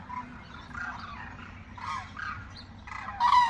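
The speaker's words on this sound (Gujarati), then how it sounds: "આ મસ્ત કુંજ પંખીઓ લાઈનસર જઈ રહ્યા છે" A flock of cranes calls while flying in a line overhead, heard as a few raspy squawking calls in short bursts over a quiet outdoor background.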